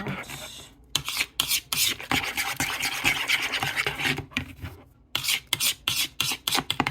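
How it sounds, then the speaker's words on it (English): A spoon stirs and scrapes around a pot of Thanksgiving cooking with cinnamon, giving rasping strokes that come in uneven bursts with short pauses, close and fairly loud, with no talking. "One-handed stirring."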